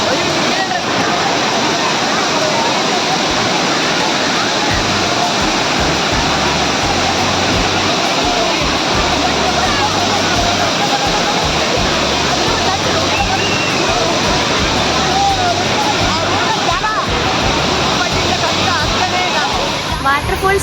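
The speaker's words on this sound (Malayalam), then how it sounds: "വാട്ടർഫോൾസ് കാണാൻ വന്ന് നമ്മൾ അവസാനം വെള്ളത്തിലിറങ്ങി കേട്ടോ" Thiruparappu waterfalls in Kanyakumari rushing nearby, a loud, dense and unbroken roar of falling water that holds steady from start to finish.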